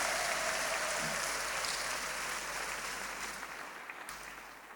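Applause from a church congregation for Jesus, a broad wash of clapping that starts full and slowly fades toward the end, with no talk over it.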